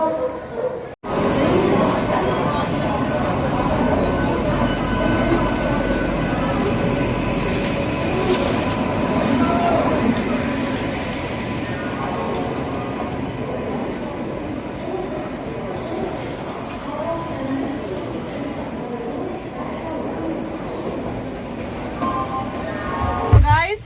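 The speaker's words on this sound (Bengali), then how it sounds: "ট্রেনের জন্যই ওয়েট করছি আমরা। ট্রেন দেবে, এখনো দেয়নি, ট্রেন এখনো ঢোকেনি আমাদের" A train pulls in at a station platform on a trip toward Shantiniketan, a continuous rumble of wheels and carriages with squeals of metal near the end, while people talk over it.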